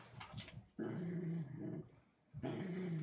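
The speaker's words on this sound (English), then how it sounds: "Don't growl." A Coton de Tulear growls low and steadily while being groomed with a towel, in two long rumbling stretches close to the microphone with a short pause between them and brief restless sounds at the start.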